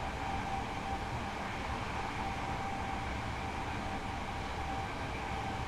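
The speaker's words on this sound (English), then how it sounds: "I knew there was a freight train along here somewhere" A freight train hauled by a locomotive runs in Train Simulator Classic, with a continuous, even rolling rumble, a steady engine drone and a faint whine throughout, with no talk.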